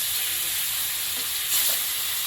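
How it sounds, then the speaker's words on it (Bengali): Small fish frying in oil in a wok (kadai) in a home kitchen, a steady close hiss of sizzling with a brief louder crackle burst near the end and no talking. "কড়াইয়ে তেল দিয়েছি এবারে চুনো মাছ একটু ভেজে নেব"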